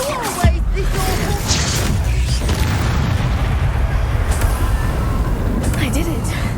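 Booming spell explosions in Hogwarts Legacy, a heavy blast near the start followed by continuous rumbling battle noise and scattered crackles, with a voice talking over it.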